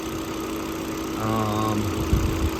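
A 2006 Volvo XC70 turbo engine with worn engine mounts runs steadily nearby, a continuous mid-pitched drone with a brief rising hum and a couple of low thumps near the end.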